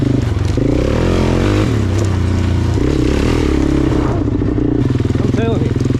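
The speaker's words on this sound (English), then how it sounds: "this 400 sport motor, she's got some kick behind her." A Suzuki LTZ-400 sport quad with a 400 motor, bought neglected, revs with a rough, throaty engine drone that rises and falls. A short voice is heard near the end.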